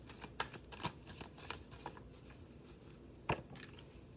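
Tarot cards are shuffled and pulled from a deck, giving close, quiet riffling and soft flicking snaps in irregular bursts, with one sharper slap late on and no talking.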